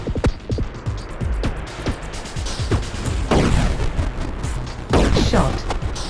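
Rapid bursts of tank gunfire from the Atari 50 game Quadratank, loud, repeated shots in quick succession with booming electronic reports filling the whole stretch.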